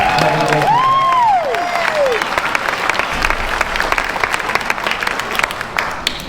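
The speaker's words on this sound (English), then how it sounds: "let's clap for her" An elementary school crowd at a circus skills performance breaks into loud clapping with whoops and cheers, a rising whistle-like shout near the start, and then settles into dense, sustained applause, with voices mixed in.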